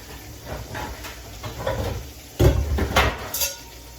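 Pots and pans clatter in a home kitchen as a pan is got ready for cooking potatoes and onions, with a few scattered metallic knocks and a louder cluster of clanks midway, close and fairly soft.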